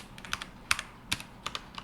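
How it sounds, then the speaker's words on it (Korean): Keys on a computer keyboard tapped while moving through code, including the tab key, giving a handful of sharp, close, irregularly spaced clicks with no talking. "키보드 탭 키를 누르시면 일정량만큼 들어가게 되는데요"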